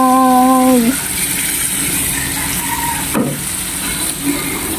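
Egg added to a hot pan hissing in a loud, steady sizzle that carries on throughout, after a brief whistling tone at the start and a sharp scrape partway through.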